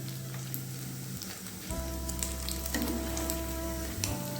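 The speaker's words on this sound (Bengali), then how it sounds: "আমি একটু ভালো করে কড়া করে ভেজে নিচ্ছি" Paneer pakoda deep-frying in hot oil gives a steady, close sizzle and bubbling crackle, with a low hum underneath and a faint tonal whine partway through.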